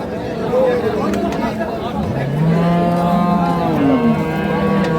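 Dairy cows with calves at a rural haat cattle market low and moo loudly nearby, several long calls overlapping, while a crowd murmurs and people chatter in the background.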